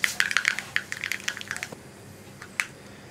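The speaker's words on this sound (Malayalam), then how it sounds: "ഉലുവയും കൂടി ഒന്ന് പൊട്ടി വരട്ടെ" A pinch of fenugreek seeds crackles and splutters in hot oil while a tomato and jackfruit-seed curry is being started, giving close, sharp, irregular pops that thin out into a few scattered crackles.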